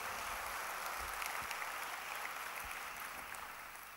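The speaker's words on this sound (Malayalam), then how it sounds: "ഒന്ന് കൈയടിച്ച് ദൈവത്തിന് നമുക്കൊരു മഹത്വം കൊടുക്കാം." A church congregation claps together in praise, a steady broadband wash of hands that holds for the whole stretch and eases off slightly toward the end, with no voices over it.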